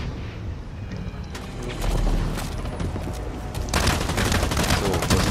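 Light machine gun fire in the shooter game Blacklight: Retribution, sustained bursts of rapid gunfire with dense crackling shots, growing louder toward the end, with no talk over it.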